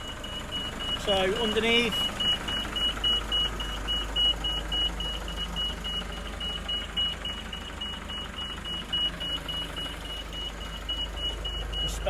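Nissan Cabstar 2.5 DCI 35.14 short-wheelbase tipper body being raised, with a steady string of regular high-pitched warning beeps over a constant engine and hydraulic drone; a voice speaks briefly near the start.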